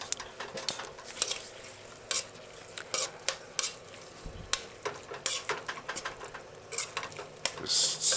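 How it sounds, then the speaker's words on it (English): Homemade sloppy joe meat stirred in a pan over low heat, with a utensil scraping and clinking against the pan in irregular strokes over a soft, steady sizzle. "Just stir your sloppy joe in."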